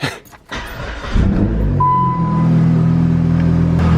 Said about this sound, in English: now let's start the car up and see if it does the weird thing